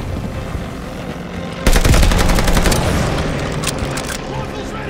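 Rapid bursts of gunfire aimed at an attacking aircraft in Call of Duty: Vanguard, set in the desert, starting abruptly and rattling loudly for over a second before trailing off under battle noise.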